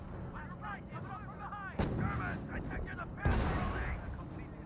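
Battle fire rolls through a Company of Heroes match, including a light half-track, with two heavy booming blasts over a steady background of distant shooting while a voice talks on top.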